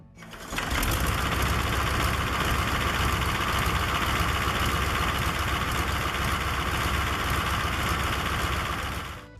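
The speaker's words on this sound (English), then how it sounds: "This engine was a radial diesel." A Guiberson T-1020 radial diesel aircraft engine runs steadily and loudly, a dense continuous mechanical drone with a rapid clattering texture that starts abruptly and holds nearly ten seconds before easing off.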